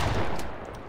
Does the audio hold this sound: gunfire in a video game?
yes